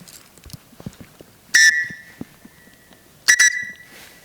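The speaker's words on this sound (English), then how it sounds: "A whistle. This could be potentially useful." A cheap whistle from a budget survival kit is blown twice, each a shrill, loud blast of about half a second with a fading tail, over faint handling noise.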